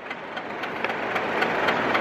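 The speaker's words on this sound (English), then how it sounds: "That is a nearly 50-year-old British Rail diesel locomotive pulling a three-coach train" A nearly 50-year-old British Rail Class 37 diesel locomotive rumbles past pulling a three-coach train, with a steady engine drone and rhythmic clicking of wheels, fairly close.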